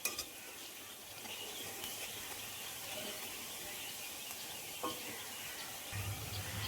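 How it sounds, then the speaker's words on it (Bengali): Onions fry in oil in a pan with a steady, soft, hissing sizzle throughout, quiet and continuous, with an occasional faint clink of utensils and no talking. "পেঁয়াজগুলো আরেকটু ভাজা হলেই তুলে নেব অন্য আর এক পাত্রে।"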